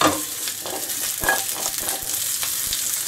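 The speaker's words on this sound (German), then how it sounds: "Das lasse ich jetzt ungefähr 2-3 Minütchen so vor sich hin brutzeln." White asparagus sizzles steadily in hot oil in a frying pan, a continuous close crackle with a few sharper pops and stirring scrapes.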